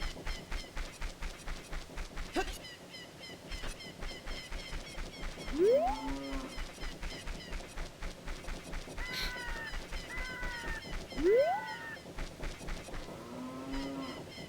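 A cow mooing in The Legend of Zelda: Ocarina of Time, two drawn-out rising moos over a steady rhythmic game music loop, with bird-like chirps and other game effects mixed in.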